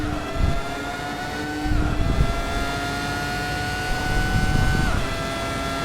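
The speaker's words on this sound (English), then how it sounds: "This car, however, Ferrari F2002" Ferrari F2002 Formula One race car engine in Assetto Corsa, a steady high-pitched whine with harmonic tones shifting through the gears and a few surges of revving, heard alone without talk.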